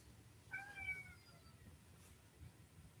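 A house cat gives a single drawn-out meow, close and clear, then quiet room noise with a low hum follows; no one speaks over it.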